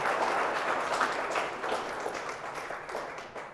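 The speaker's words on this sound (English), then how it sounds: "how about a round of applause for the bride and groom?" Guests at Sarah and Stan Jarensky's wedding ceremony applaud the bride and groom, a steady wash of clapping from a modest crowd that holds at an even level before easing slightly toward the end.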